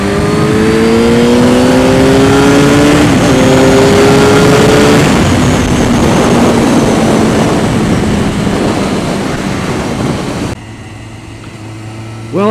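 A Suzuki GSXR 750 motorcycle accelerating hard on the road, a loud, rising engine whine climbing through the gears with wind roar, then dropping away abruptly near the end.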